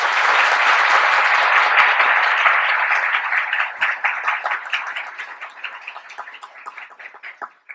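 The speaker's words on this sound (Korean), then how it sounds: "다 같이 박수 부탁드립니다" An audience at a university research lecture bursts into loud, dense applause that holds steady for a few seconds and then thins into scattered individual claps before dying away.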